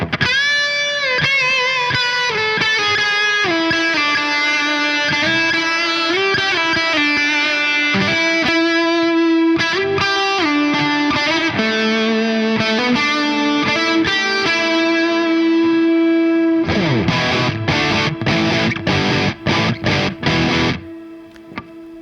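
Distorted electric guitar with gain, run through a Neunaber Immerse Mk1 reverb pedal, playing sustained overdriven chords and lines with a long wash of reverb, then shifting to choppy rhythmic strums near the end.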